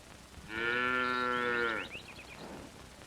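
A single cow moos once in a long, drawn-out call, fairly close and loud, with a fainter trailing sound afterward and no talking.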